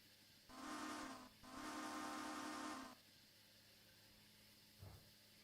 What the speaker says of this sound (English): Yeah, steam choo-choo, loud steam choo-choo.